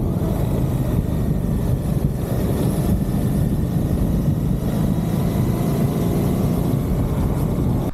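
A Suzuki GSX-8S motorcycle engine drones steadily and loudly with a dense low rumble and no breaks, heard alone without voices.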